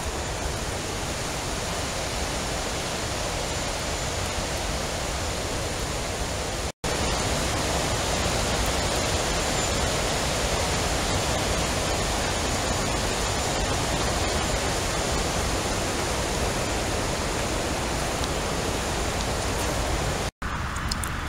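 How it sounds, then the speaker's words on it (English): The New Ganges River flowing in early spring, a steady broadband rush of water that stays loud and unbroken throughout, with two brief cuts and no voices. "There's our New Ganges River flowing."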